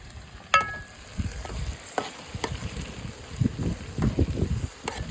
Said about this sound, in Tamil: இப்போ இந்த தக்காளி வதங்குற அளவுக்கு நம்ம வந்து வதக்கணும்